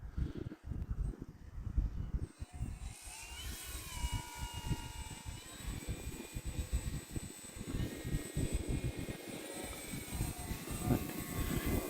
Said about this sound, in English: let's go one click on the flaps and bring it down here and do a nice slow pass